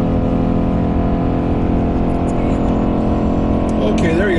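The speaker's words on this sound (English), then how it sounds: "That's real V8 power." Nissan Titan XD King Cab 4x4 SL pickup's V8 engine holding a steady, loud drone throughout, with a faint whine rising near the end, under a person talking.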